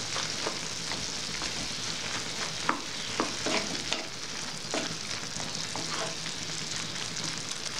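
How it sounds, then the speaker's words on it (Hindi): Maggi noodle cakes sizzle steadily in a hot pan while being stirred, a continuous close frying hiss broken by a few soft scraping knocks from the spoon. "दोनों नूडल्स केक को इस तरह डाल देंगे। इसको थोड़ी सी ऐसे चला लेते हैं।"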